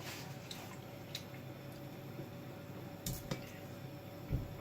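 Marinated chicken wing pieces laid into a glass Pyrex baking dish, producing a few quiet, scattered clinks and soft wet taps against a faint background hiss.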